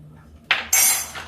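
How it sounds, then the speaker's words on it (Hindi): Brief metallic clinks of a ladle and a pan placed onto a stove in a home kitchen, two bright close clanks followed by a lighter tap, with no talking. "ये देखिए ये पैन चढ़ाते हैं"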